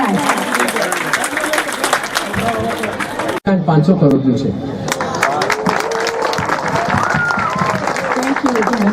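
A crowd in Junagadh applauds to welcome guests from a foreign delegation, loud continuous clapping with cheering mixed with a speaking voice, breaking off for an instant partway through before resuming.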